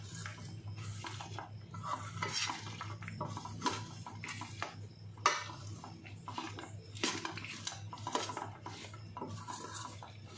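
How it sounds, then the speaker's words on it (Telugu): A utensil scrapes and clinks against a pan as bitter gourd pieces are stirred with chili powder, making steady metallic stirring and scraping sounds close by, with a faint sizzle underneath. "ఈ కారము కాకరకాయలు బాగా కలపాలి."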